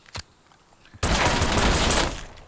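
Rapid pistol fire in the video game Call of Duty Black Ops 6: a sharp single shot, a pause, then a dense, loud burst of overlapping shots lasting about a second before tapering off.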